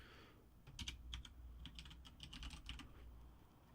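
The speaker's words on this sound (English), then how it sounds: "so we will type that in." Typing on a computer keyboard during a coding session, with quick, irregular clusters of close, quiet key clicks over a low background hum and no talk.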